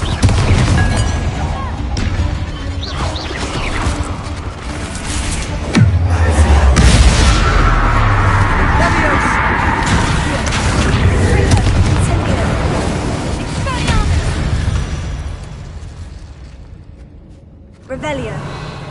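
Confringo blasting-curse explosions go off in Hogwarts Legacy, heavy booms and bangs over a busy battle din, loud and close, with a voice speaking throughout.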